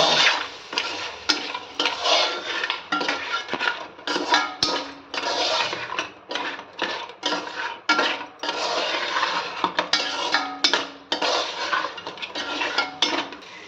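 Ground coconut masala for a crab rassa is sautéed in a pan. A spatula scrapes and clinks against the metal continuously, close and loud, under a soft sizzle, with no talking.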